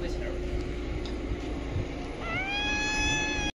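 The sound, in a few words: kitten meowing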